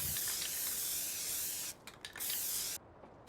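A crop sprayer spraying in the Farming Simulator 19 video game, a steady loud hiss of spray that cuts out briefly, sputters back, then drops away near the end.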